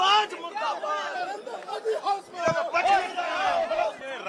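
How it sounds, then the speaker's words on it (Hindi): RJD legislators chant slogans against BJP legislators at a protest sit-in in Bihar: a group of voices shouts loudly together in rhythmic, overlapping calls over crowd chatter. "राजद विधायक जो हैं नारेबाजी यहाँ पे कर रहे हैं बीजेपी विधायकों पर"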